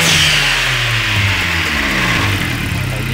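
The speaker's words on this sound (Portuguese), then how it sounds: "A válvula tá espirrando" Turbocharged car engine revving loudly nearby, a broad hiss of the blow-off valve spraying across the upper range over the steady engine drone, continuous for a few seconds.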